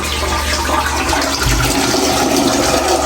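A toilet flushes in a newly built rowhouse bathroom, a loud, steady rush of water that fills the whole moment without pause, close to the listener.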